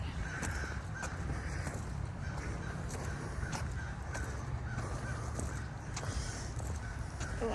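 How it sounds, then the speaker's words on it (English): A crow caws repeatedly in an evenly spaced series of harsh calls over steady outdoor background noise on a quiet residential neighborhood street. "Oh, I hear a bird. Yeah. He's really talking too."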